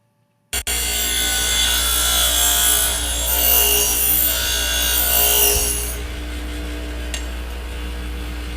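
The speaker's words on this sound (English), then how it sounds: "Filing adds the finishing touches to the blade to ensure proper quality." A forged knife blade is worked over with a file, a loud, continuous harsh grinding rasp lasting about five seconds before easing into a quieter steady hum.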